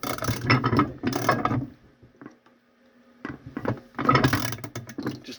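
An arbor press compresses an 8oz rocket tube, producing two bursts of close, rattling ratchet-and-gear clatter separated by a near-silent pause with a few faint clicks.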